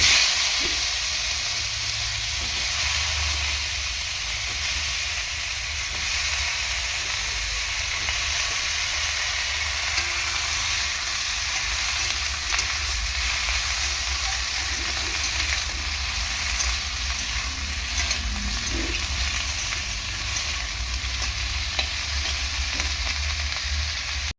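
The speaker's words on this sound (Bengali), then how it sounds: "সবকটা মাছই এরকমভাবে ভেজে নিলাম বেগুনগুলো ভেজে নেবো" Eggplant slices fry steadily in hot oil in a home kitchen, a dense, continuous sizzle with faint crackles running loud and close for the whole stretch, no voices.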